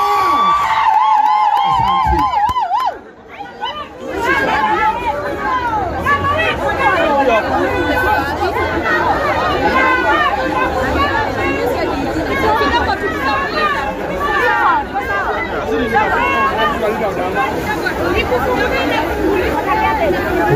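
A crowd at a shop opening in Nakuru keeps up loud, continuous cheering, shouting and excited chatter after a brief voice at the start.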